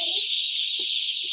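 Newly bought broiler chicks in a brooding setup chirp continuously as a dense, shrill chorus, with a few faint low knocks underneath.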